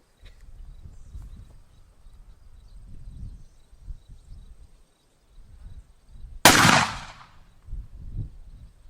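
A single sharp rifle shot firing a heavier bullet at about 21 yards, loud and close, standing out once amid low rumbling background noise.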